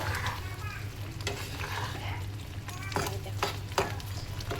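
Dried small shrimp frying in a pan with eggplant are stirred, giving a steady low sizzle broken by several short scraping strokes of the spatula against the pan, close and fairly soft.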